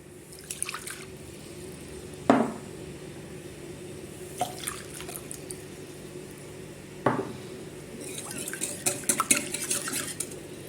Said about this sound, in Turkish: Bir tane yumurtayı karıştıracağım kap içerisine alıyorum ve güzelce karıştırıyorum.